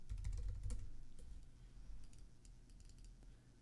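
Someone types text into Canva on a computer keyboard, a steady run of close, quiet key clicks with no talking.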